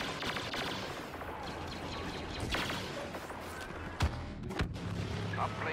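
Star Wars Battlefront Walker Assault battle, dense continuous blaster and weapons fire rattling under a distant radio-style voice, with a couple of sharper heavy blasts near the end.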